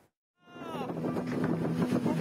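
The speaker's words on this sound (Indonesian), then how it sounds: "Inilah video amatir detik-detik tenda festival buah di Waduk Serbo, Kabupaten Kulon Progo diterjang angin kencang." Strong wind gusts tear at fruit festival tents beside the Serbo reservoir in Kulon Progo, a loud, rough roar hitting the microphone after a brief silent start and staying steady to the end.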